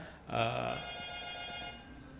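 A telephone rings in a studio during a broadcast arts and culture talk show, sounding as one sustained, tonal electronic ring that swells and then holds at moderate level.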